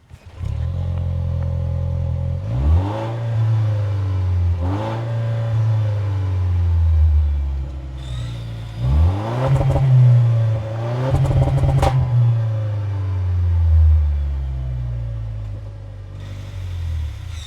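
A 1958 Toyota Land Cruiser with a four-cylinder engine revving in short bursts, loud and close, the pitch climbing and falling several times over a rough idle with a clattering edge.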